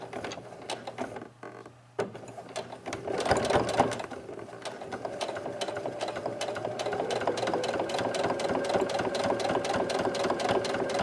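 A sewing machine back stitching a fabric face mask: a rapid, steady mechanical whir of the needle that starts, pauses briefly, then runs continuously and close up.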